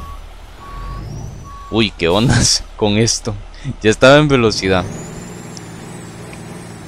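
An International bus engine in a driving game rumbles low and steady under someone talking in Spanish, with a thin, high beeping tone early on and the engine hum continuing alone afterward.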